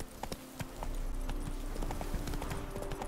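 Roach, Geralt's horse in The Witcher 3, galloping with a rapid, steady clip-clop of hooves that stays close and continuous throughout, no voices over it.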